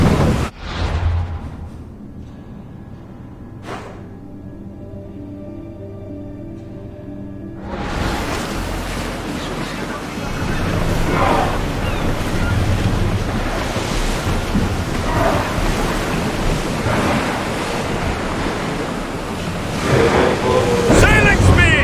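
A ship in a naval-combat video game surges through ocean waves. A quiet opening with a few faint tones gives way to a loud, steady wash of surf and wind rushing past.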